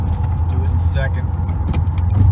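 A 1984 Corvette with a 4+3 manual transmission in second gear with overdrive gives a steady low engine drone from inside the cabin. Someone talks over it throughout.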